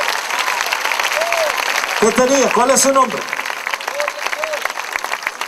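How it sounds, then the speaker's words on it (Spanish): A church congregation's applause rolls on steadily behind a preacher talking over it, with a brief louder burst of voices and clapping in the middle. "Dele un aplauso a Cristo"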